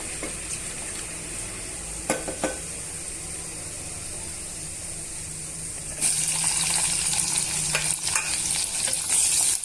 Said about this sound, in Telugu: ఉల్లిపాయ ముక్కల్ని, పచ్చిమిరపకాయ ముక్కల్ని వేసుకొని వేయించుకోవాలండి